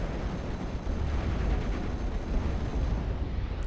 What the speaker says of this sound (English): And there comes the off-map barrage on my artillery.